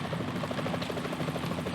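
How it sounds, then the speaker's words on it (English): Helicopter approaching in the video game Metal Gear Solid 2, a steady rapid rotor thump with a dense engine whine underneath, moderately loud and continuous. "Is that a chopper I just heard?"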